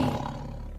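A big tiger's roar in a Korean folk tale, a low, rumbling growl that fills the whole moment and fades slightly, loud and close with no talk.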